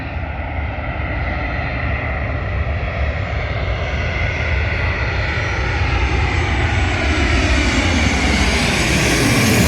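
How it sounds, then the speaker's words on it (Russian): A passenger airplane on final approach to land on Corfu roars steadily and loudly throughout, its broadband engine noise swelling slightly as it nears, with no talk over it. "самолет идет на посадку"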